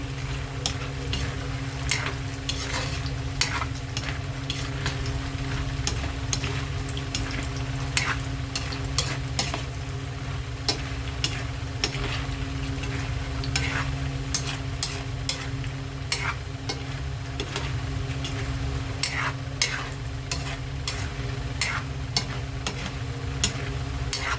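Continuous crackling sizzle of peanuts frying in oil over medium heat, with frequent light scraping and clicking as they are stirred around the pan.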